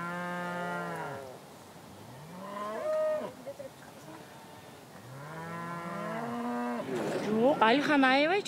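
Cattle at milking time on a nomadic Kyrgyz farm low loudly and repeatedly, several long drawn-out moos from close by with short pauses between them, one overlapping another near the end.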